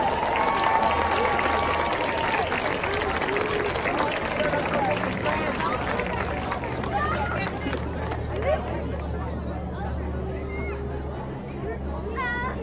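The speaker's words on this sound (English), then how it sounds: "let's give them a round of applause, Sierra Vista Junior High School" An audience at a school band night in Baldwin Park applauds a junior high school band, with sustained clapping mixed with crowd chatter, cheering voices and some whistles.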